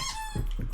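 A dog bites a squeaky toy, producing one sharp, high rubbery squeak up close followed by a couple of soft thumps.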